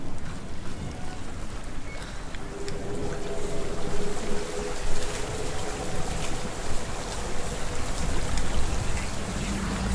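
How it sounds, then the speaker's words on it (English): Rushing water from a waterfall in the video game Hellblade: Senua's Sacrifice makes a dense, steady roar with gusty swells throughout, and no voices are heard. "let's go through the waterfall."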